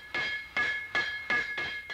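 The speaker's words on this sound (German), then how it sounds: "Mit den letzten Hammerschlägen in die Krümmung auf der Innenseite des Ballens richtet der Schmied das Kuheisen" Blacksmith's hammer striking a cow shoe on an anvil, five evenly spaced ringing metallic blows with bright sustained overtones, close and loud with no voices.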